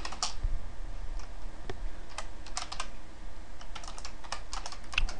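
Irregular bursts of clicky keystrokes on a computer keyboard, close up, with short pauses between flurries of typing.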